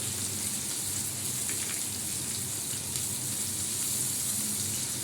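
Fish frying in mustard oil, a dense, continuous crackling sizzle like heavy rain, close and steady throughout with no pauses.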